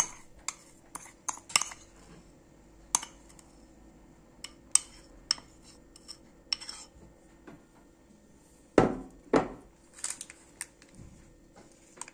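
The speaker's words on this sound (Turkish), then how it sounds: "Bu kıvamı elde edinceye kadar karıştırmaya devam ediyoruz." A spoon stirring a thick chocolate dessert mixture in a bowl, with scattered sharp clinks and scrapes against the dish, sparse and close, one louder scraping burst near the end.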